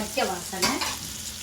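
Ginger garlic paste sizzles and gets stirred in a hot pan with fenugreek while a crab curry is cooked, with soft frying hiss and a couple of scraping stirs, close and fairly quiet.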